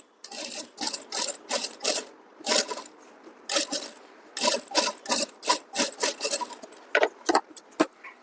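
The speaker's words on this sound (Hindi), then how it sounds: "यहाँ पर इस प्रकार से खोल के अंदर की तरफ तार सिलाई लगाएंगे।" A sewing machine stitches along the inside of a kurti neckline while a back zip is being fitted, running in short, loud, rapid bursts with brief stops between them.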